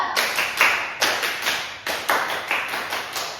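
Pupils in a fourth-grade classroom clap in unison to a counted pattern, producing repeated loud bursts of many overlapping hand claps in short rhythmic groups, near and lively.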